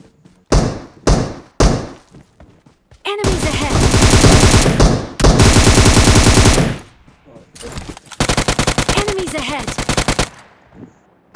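Loud M762 rifle fire in the mobile shooter PUBG Mobile: a few short early bursts, then long sustained automatic strings separated by brief pauses, heard close and alone.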